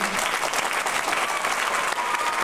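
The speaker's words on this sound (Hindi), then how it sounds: "एक बार जोरदार ताली से" A crowd at a Delhi BJP political rally gives loud, steady applause to welcome a guest, with dense clapping throughout and no break.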